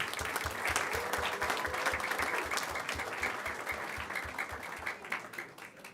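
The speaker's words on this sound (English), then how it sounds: "Let's give her a big round of applause, please." Steady audience applause at a school district Board of Trustees meeting welcoming a group of students, continuous and moderately close, with an even rhythmic thump under the clapping throughout.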